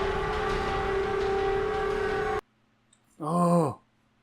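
In the video game Silent Hill, a steady wailing siren tone holds for a couple of seconds and cuts off abruptly, followed by a short rising-and-falling vocal groan.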